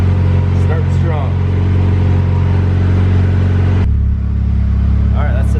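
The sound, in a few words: supercharged Honda Integra engine running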